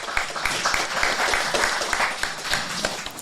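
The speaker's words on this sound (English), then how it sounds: "We'll clap Will on for sure." Live podcast audience at the Concord Museum clapping to welcome New England Revolution left back Will Sands: a short burst of sustained applause from a modest crowd with a few sharp individual claps standing out, fairly close and even throughout.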